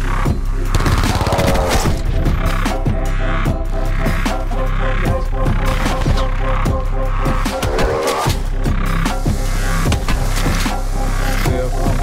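Grenade blast in Call of Duty Black Ops during online play, sitting in a loud, dense mix of gunfire and crashing impacts that runs steadily throughout with no clear pause.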